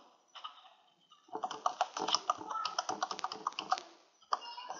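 Quick bursts of keystrokes on a computer keyboard, faint and close, clustered into an irregular run of clicks as a nickname is entered while registering for an online game.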